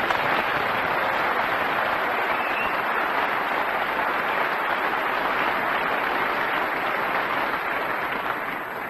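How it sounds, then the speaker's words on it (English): Sustained applause from a snooker audience at the 1981 Benson and Hedges Masters final, a dense, even wash of clapping that holds steady throughout with no voices on top. "applause for the apology by the referee."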